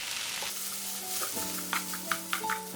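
Rice is stir-fried with kimchi seasoning in a pan over low heat, making a soft, steady sizzle with a few light scrapes and clinks toward the end.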